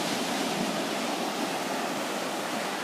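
Waves wash continuously at Baldwin Beach on Maui's North Shore at sunset, a steady, dense roar of surf with no breaks or voices.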